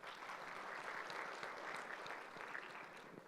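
A conference audience at a finance and accounting forum claps in a fairly quiet, even patter that holds steady for a few seconds, with no voices above it.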